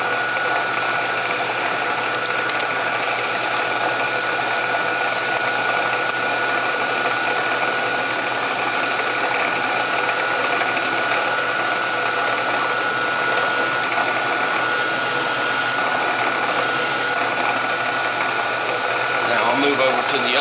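A center drill boring into a broken bolt in a Packard engine, a continuous loud mechanical whir and grind that holds steady without pause for about twenty seconds.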